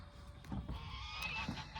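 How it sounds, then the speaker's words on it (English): Geese honk faintly in the distance, a few scattered calls over a low background rumble. "our geese are just, they're letting us have it."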